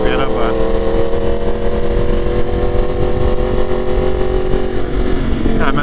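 Tuned Yamaha R1 Limited Edition motorcycle riding in second gear at about 80 km/h, a steady, loud engine drone with wind rush throughout, a rider talking over it.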